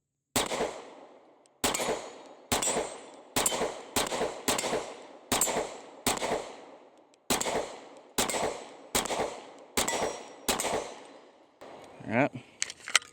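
A pistol fitted with an Osight optic fires about a dozen sharp, loud shots, evenly spaced roughly a second apart, each with a short ringing decay, followed by brief handling noise at the end.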